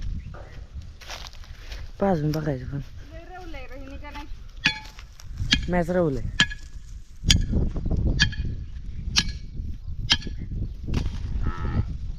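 A cow moos twice in deep, drawn-out calls, with footsteps and scattered clinks and knocks around it in a quiet farmyard.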